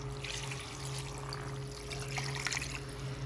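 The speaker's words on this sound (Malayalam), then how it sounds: "ഇതിലേക്ക് 3-ാം പാൽ ഒഴിക്കാം." Thin third-extract coconut milk pours into a pot of Kerala-style country chicken curry, a soft, faint trickle and splash with no one speaking.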